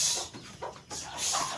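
A red chicken clucking in a few short, separate bursts, fairly close and moderately loud, with no talk over it.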